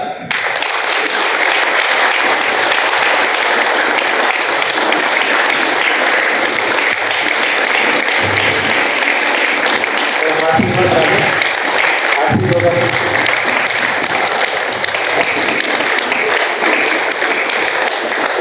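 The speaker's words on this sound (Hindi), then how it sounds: "इनके लिए तालियां 1 मिनट बजाएंगे हम लगातार।" Extended audience clapping at a university yoga session, loud and unbroken for the full stretch, many hands in a steady dense patter, with a few brief voices calling out over it midway.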